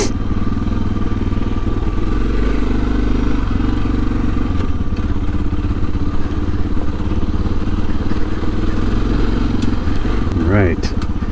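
A Suzuki DR650 motorcycle rides over loose, chunky dirt with big rocks, its single-cylinder engine thumping loudly and steadily up close while the chassis clatters and bumps over the rough ground.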